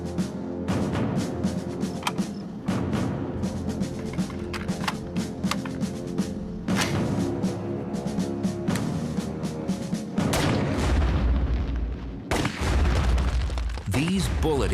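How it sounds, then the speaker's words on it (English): Bullets strike artificial stand-ins for asteroids at a shooting range, producing several loud, sharp impact cracks and booms spread across the stretch, each with a ringing tail. "These bullet impacts are comparable to the collisions in the asteroid belt"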